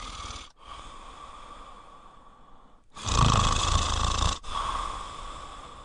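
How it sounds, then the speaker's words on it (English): A sleeper snores through the night in a bedtime scene, with rhythmic rasping breaths: one long inhale, a short pause, then a louder, rougher snore followed by another, close and clear with no talking. "Bobo snores all night."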